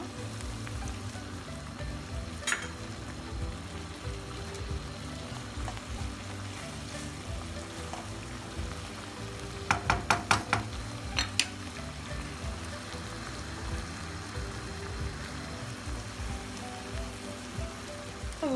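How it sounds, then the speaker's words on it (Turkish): Mushrooms sizzle steadily in a non-stick wok as vinegar is poured in, a soft, fairly faint hiss with a brief burst of sharper crackles partway through. "Bu aşamada biraz da sirke ekliyorum."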